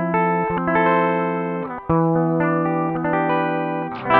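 Clean Gibson ES335 electric guitar played through a Koch Pedaltone preamp with the effect bypassed, sounding chords and single notes that ring on with sustained harmonics, close and steady, with a brief pause near the middle and no talking.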